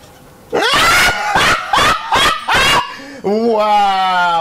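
An anime girl from Mieruko-chan screams in a series of loud, sharp bursts, about five in quick succession, then ends in a long, rising high-pitched shriek.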